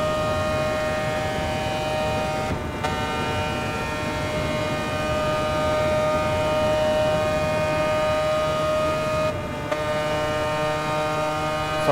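The rotary engine of a Mazda 787B race car in Gran Turismo Sport holds a loud, steady high-pitched wail, briefly dipping twice as if shifting gears, with no talking.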